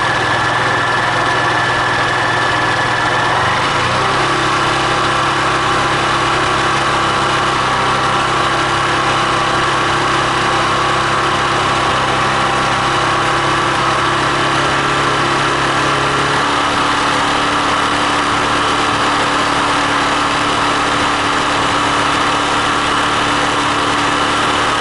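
Honda Titan 150 fuel-injected motorcycle engine, with a very dim headlight fault and the battery disconnected, runs steadily and close, its tone shifting partway through as the throttle changes; no one speaks.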